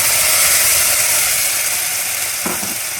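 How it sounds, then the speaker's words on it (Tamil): Ground tomatoes go into a pan of half-browned onions, setting off a loud, steady sizzle and hiss, with a short stirring scrape near the end. "நம்ம 10 தக்காளி அரைச்சி வச்சுக்கிட்டு இருந்து போடணும்."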